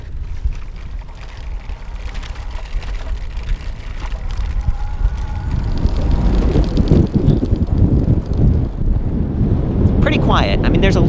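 A BULLS Cross E8 e-bike rolls over cobblestones with its plastic fenders rattling. A continuous rumbling road noise mixes with wind buffeting, growing rougher and louder midway through the ride.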